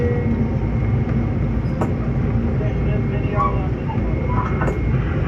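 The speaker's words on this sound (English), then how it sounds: "We've got a westbound M9 equipment coming in." A westbound M9 commuter train rolls into a station, giving a steady, loud rumble of wheels and car noise throughout, with no clear pause or break.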